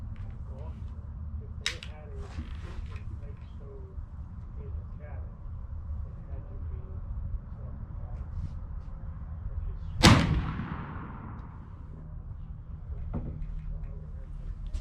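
A P53 Enfield rifle fires a single loud, sharp shot at a target midway through, its crack ringing out over a steady low background murmur with faint voices.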